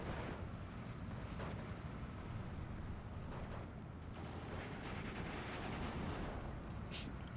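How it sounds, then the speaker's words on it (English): Machine-gun fire from a Panzer MG34 in the WWII strategy game Steel Division 2, a dense, continuous roar of rattling gunfire and battle noise with no clear pauses, steady and moderately loud throughout. "Panzer MG34 is holding off these infantry at range."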